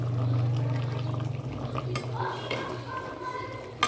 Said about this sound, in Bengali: এরপর এর মধ্যে একটুখানি মিট মশলা সানরাইজের দিয়ে দিলাম, আর একটুখানি নেড়ে নেব।